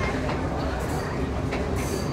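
A train runs past beachside settlements in Kalutara, Sri Lanka, close to the houses. Steady, loud rumbling and rattling of the carriages fills the whole stretch.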